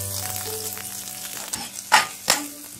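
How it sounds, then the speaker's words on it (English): Garlic and ginger roast in oil in a pan for a mushroom and green peas curry, a close, steady frying sizzle broken by a few sharp stirring scrapes near the end, without speech. "Roast the garlic until it is brown."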